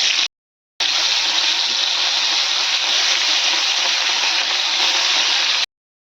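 Rohu fish rubbed with turmeric and salt hisses loudly and steadily as it fries in hot oil, close up, broken by two brief silent gaps.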